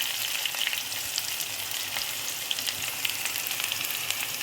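Curry leaves, ginger, chili and green garlic frying in hot oil in a village kitchen, a steady close sizzle with crackling pops throughout, no talking.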